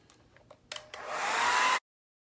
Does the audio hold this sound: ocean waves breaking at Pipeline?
no